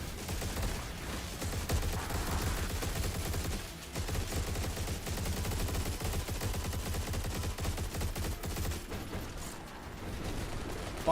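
Continuous rapid turret gunfire in the first-person shooter game Turbo Overkill, a dense, steady mechanical barrage of shots that keeps going without pause for the whole stretch.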